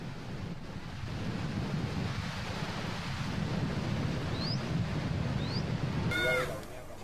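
Floodwater surging through Arequipa, Peru, sweeping a car away: a loud, continuous rushing roar of water with gusty wind-like noise throughout, ending with a brief tonal burst before it fades slightly.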